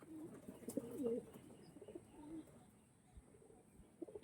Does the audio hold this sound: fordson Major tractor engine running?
no